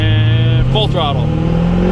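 A 6.0 Powerstroke diesel truck fitted with an S369sxe non-VGT turbo runs at full throttle in first gear with its tires spinning, a loud, close, sustained engine roar whose pitch climbs steadily throughout.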